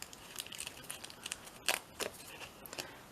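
A paper tag is ripped off a mixed-media collage in a few quick, faint tearing and crinkling bursts, with one sharper rip near the middle, heard close up with no talking.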